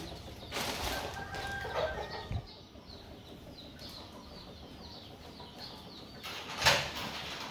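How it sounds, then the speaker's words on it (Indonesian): Chickens clucking and murmuring on a farm while waiting to be fed, a steady chorus of mid-distance clucks with occasional louder squawks, no talking. "Yuk kita kasih makan ayam."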